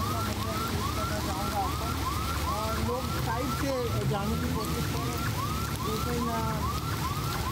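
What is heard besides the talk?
ambulance sirens in flooded Karachi street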